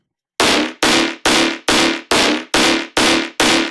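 The transient layer of an electronic music track: a punchy percussive hit repeats eight times at a steady, quick rhythm, each strike loud and bright with a short decaying tail, no voices.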